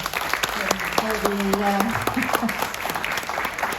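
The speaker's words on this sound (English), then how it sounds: "perhaps we should all applaud" An audience breaks into steady applause, many hands clapping together, while a voice carries on briefly over the noise.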